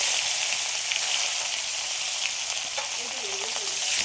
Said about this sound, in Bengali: এইবার আমি সর্ষের তেল দিচ্ছি কড়ার মধ্যে, দিয়ে দিচ্ছি জিরে, তারপরে দিয়ে দিচ্ছি টমেটো।